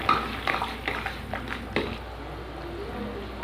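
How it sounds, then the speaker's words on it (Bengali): Bengali singhi fish curry with bitter gourd, plantain and potato cooking in a pot after cumin paste goes in, with a spoon scraping and stirring in repeated close knocks over a low bubbling simmer. "জিরে বাটাটা দিয়ে আমি আর একটু ফুটিয়ে নেব।"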